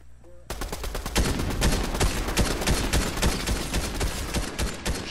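Gunfire in the video game Fortnite, rapid dense bursts of shots starting abruptly and continuing loud and nearly nonstop, with faint voices beneath.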